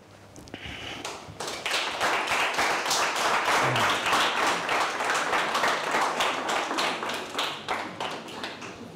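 Applause from a live audience at a solo performance evening in a Budapest bistro swells quickly into dense, steady clapping that holds and then slowly thins out.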